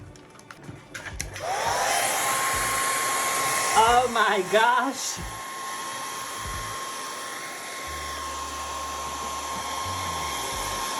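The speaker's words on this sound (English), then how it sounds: "This is the hair dryer." Hair dryer blowing hot air on a color-changing quilt, a steady loud whirring rush that starts after a moment and runs continuously, with a brief exclaiming voice over it partway through.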